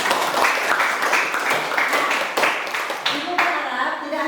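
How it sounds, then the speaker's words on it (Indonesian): Students in a classroom clap together in a lively burst of uneven applause that tapers off near the end, with voices mixed in. "Tepuk tangan buat"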